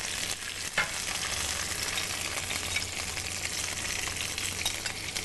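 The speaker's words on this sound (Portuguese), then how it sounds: "Eu vou dourar minha carne aqui no fogão" Pork ribs brown in a pan on an induction stove, a dense steady sizzle with occasional stirring clicks, close and continuous, with no talking.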